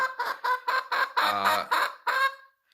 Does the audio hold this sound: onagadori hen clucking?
yes